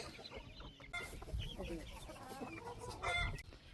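Chickens clucking close by in a coop, with soft irregular clucks and rustling and a faint voice in the background.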